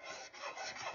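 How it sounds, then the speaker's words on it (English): A hand file rasping steadily back and forth across a bevel on a swivel breech rifle kit part, close and quiet strokes with no talking. "All right, I'm going to file that bevel."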